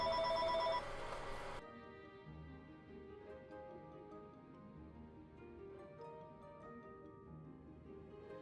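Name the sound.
phone ringing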